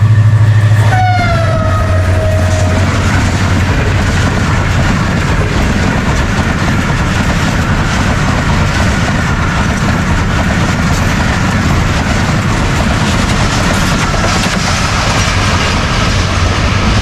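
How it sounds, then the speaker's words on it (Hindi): Karakoram Express passing through Dabanwala railway station on its way to Lahore, a loud, close, continuous rumble and clatter of rolling wagons throughout, with a brief horn or whistle near the start and no talk. "41 अप कराक्रम एक्सप्रेस लाहौर जाने के लिए आगे रवां दवा 40 मिनट लेट रनिंग के साथ पास कर रही है डब्बावाला रेलवे स्टेशन।"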